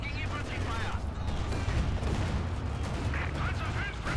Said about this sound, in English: Brombear with the good old bunker buster barrage.